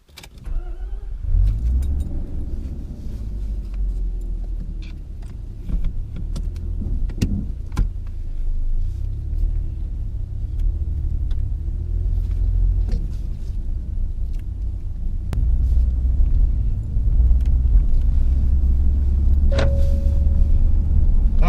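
A 1990 Mazda Eunos Cosmo 20B Type S engine rumbles steadily from inside the cabin on a road test, with low road noise and occasional small clicks and rattles as it drives along.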